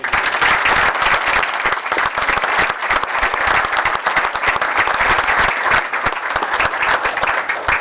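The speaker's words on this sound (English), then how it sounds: "I'd like a round of applause for all of you" A crowd at a borough inauguration and reorganization meeting applauds steadily, a dense wash of many hands clapping at once that stays loud and even throughout.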